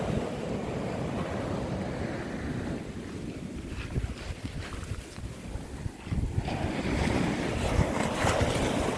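Surf washing up on Holden Beach, a continuous low wash with swells building and receding, muffled by wind buffeting on the microphone, no voices.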